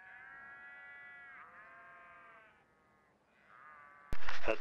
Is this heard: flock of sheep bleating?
yes